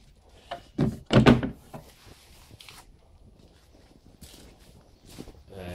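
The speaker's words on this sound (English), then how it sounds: "This is a switch that turns off the TV when you close the doors." Wooden cabinet doors of a 1957 Saba Schauinsland T604 valve television swing shut, giving a couple of loud, close thunks followed by softer knocks and handling clatter.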